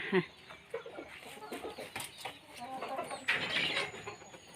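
Chickens cluck softly around a backyard coop, with scattered short clucks and calls at a modest distance amid faint ambient noise.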